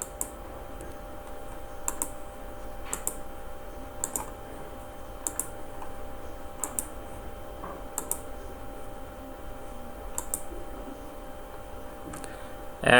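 Computer mouse clicking: a series of sharp, faint, evenly spaced clicks roughly once a second over a quiet background hum, no voices.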